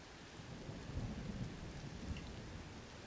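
Steady rain hisses and patters while low thunder rumbles beneath it in the Switch game Tears of the Kingdom, a continuous, fairly quiet storm with no talking.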